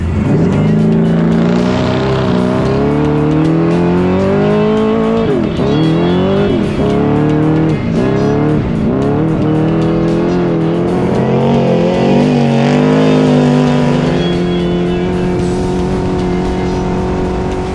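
An Amplex Racing off-road race truck runs a lap of the 2023 Vegas to Reno desert race, its engine loud and close, repeatedly revving and dropping through gear changes over a continuous drone.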